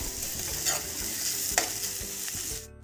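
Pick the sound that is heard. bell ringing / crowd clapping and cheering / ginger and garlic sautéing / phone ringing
ginger and garlic sautéing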